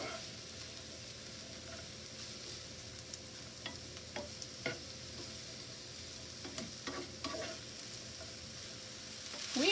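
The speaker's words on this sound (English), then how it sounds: "We are cooking the veggies just till they're kind of softened a little bit, cooked through a bit." Pepper and zucchini sauté in oil in a pan, a faint steady sizzle with occasional soft stirring scrapes, close but quiet and without talk.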